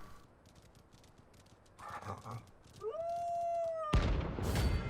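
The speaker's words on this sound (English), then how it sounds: "The dog noises." Dogs or wolves howl in Final Fantasy XVI, a rising, sustained tonal cry that swells near the end before a loud burst of noise cuts in over it, with faint ambient game sounds beforehand.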